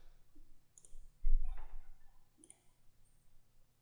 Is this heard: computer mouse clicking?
yes